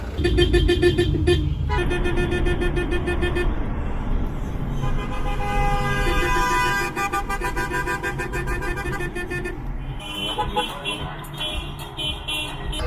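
Car horns toot and honk repeatedly as a wedding convoy sets off, several horns overlapping in loud bursts and long blasts over steady traffic rumble, with brief pauses between volleys.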